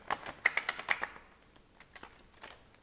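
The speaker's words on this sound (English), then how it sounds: "These cards are a little hard to shuffle." A stiff deck of tarot cards is shuffled up close, giving a quick run of crisp riffling clicks that tapers into sparser, fainter taps.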